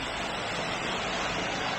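Dense, unbroken roar of a waterfall in nature near Sintra, Portugal, a loud steady white-noise rush close by with no talk.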